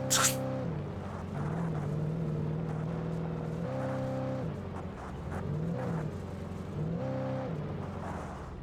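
A car engine hums and revs steadily in the video game Alan Wake Remastered, rising and falling in pitch as it drives, with a brief whoosh at the start.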